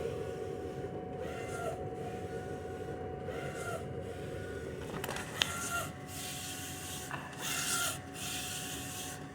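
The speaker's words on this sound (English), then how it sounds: "So we're getting a good print here." An HP Designjet 500 large-format printer works steadily, its print head sweeping back and forth in repeated passes with a rasping, whirring hum at moderate volume.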